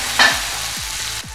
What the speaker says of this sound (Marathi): टमाटर पण मऊ होईपर्यंत भाजायचं आहे।